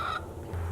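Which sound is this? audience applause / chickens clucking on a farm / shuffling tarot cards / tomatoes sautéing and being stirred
chickens clucking on a farm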